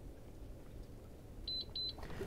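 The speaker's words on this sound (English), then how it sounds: "you're gonna hear the two beeps" Two short, high electronic beeps in quick succession from a wall-mounted biometric fingerprint pistol safe, over a low background hum, with a faint click just after.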